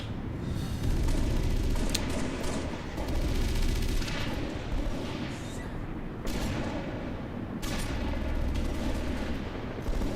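Loud, continuous gunfire in Halo: Reach, with heavy shotgun blasts and booming explosions layered densely throughout, almost no gaps between shots.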